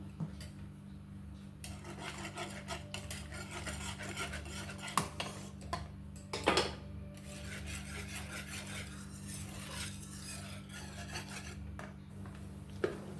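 Milk for lychee payesh being stirred in a pan, a steady scraping and rasping of a utensil against the metal bottom with a couple of louder clinks partway through.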